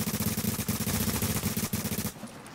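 Rapid automatic gunfire in a video game shootout, a dense loud burst of repeated shots with a steady rhythm for about two seconds before cutting off abruptly.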